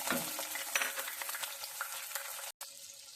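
Chicken pieces frying in oil with panch phoron spices, a bright crackling sizzle with spatula scrapes and light clinks, close and continuous until a brief cut near the end.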